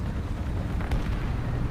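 A tank explodes as it is destroyed in War Thunder Mobile: a loud, close, deep rumbling blast with a sharp burst partway through, over dense low roar that fills the whole moment.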